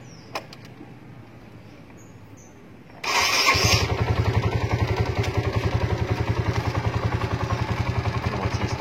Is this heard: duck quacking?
no